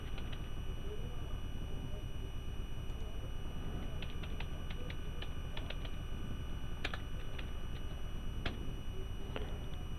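Keystrokes on a computer keyboard while writing an official letter in Microsoft Word 2021, sounding as a scatter of light clicks, sparse at first then in quick bursts, over a steady hum, with no talking.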